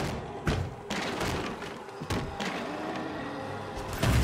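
Shotgun blasts in the video game Little Nightmares 2, heavy dull thuds over busy game noise, a few separate shots spread across a few seconds.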